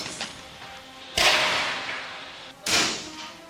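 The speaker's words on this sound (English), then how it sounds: "That is gunfire, classic." Two sharp, loud gunshot-like bangs, roughly one and a half seconds apart, each trailing into a short decaying echo, with no voices present.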